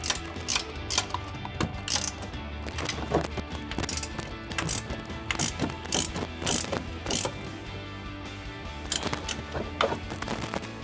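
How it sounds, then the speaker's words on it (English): A 16 mm ratcheting wrench tightens a suspension bolt on a RAM 1500 lift kit install, giving a steady series of close, clicking ratchet strokes with metallic clatter in between. "Now we can tighten up our top bolt with our 16 mil ratcheting wrench."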